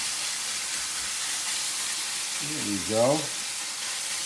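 Chicken sizzling as it hits the bottom of a hot wok during a stir-fry, a steady broadband frying hiss throughout with a short voice remark near the end.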